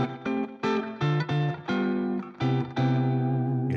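Guitar chords strummed through effects, a chord progression of several bright, distorted, reverberant chords, each struck and held briefly in turn, the last one left ringing, close and alone.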